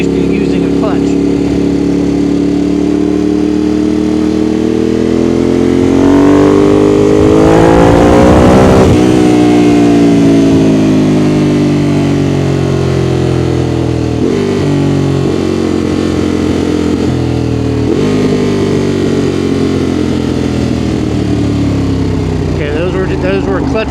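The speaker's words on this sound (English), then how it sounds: "Those were clutchless downshifts." A Ducati Monster 821 motorcycle with a quickshifter rides loud and close, its engine note rising and falling as it makes clutchless downshifts, with a brief rev burst near the middle and steady engine drone throughout.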